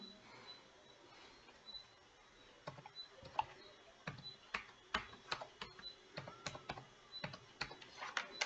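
Someone types a number on a computer keyboard: a quiet run of sharp, irregular key clicks that grows busier partway through, with no talk.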